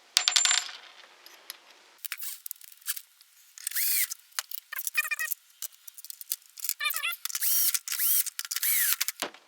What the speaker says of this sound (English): So now I'm just putting screws back together.